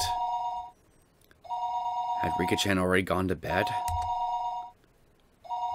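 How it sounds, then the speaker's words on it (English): A telephone rings unanswered at night in Higurashi, repeated electronic trilling bursts with pauses between them, while a voice speaks over the middle of the ringing. "Her phone would be ringing constantly though"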